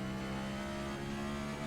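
Race car engine in a racing game at Auto Club Speedway, a steady mid-pitched revving drone with a strong hum, held level and fairly quiet for under two seconds.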